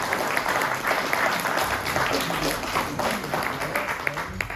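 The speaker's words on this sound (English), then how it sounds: "Please give them a round of applause for all their service" Dense, steady applause from the audience at an annual meeting, honouring board members for their service, loud and sustained for the whole stretch.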